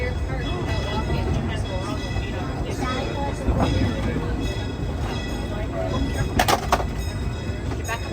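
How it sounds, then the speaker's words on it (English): The Disneyland Railroad train runs slowly around the park, with a steady rumble of rolling cars and occasional clanks and hisses, and people talking over it. "This is a leisurely train ride."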